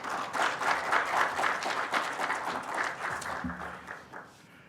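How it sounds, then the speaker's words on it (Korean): An audience at an economic forum applauds to welcome a university professor to the stage, a steady wash of clapping that fades out toward the end. "환영의 박수로 맞이해 주십시오"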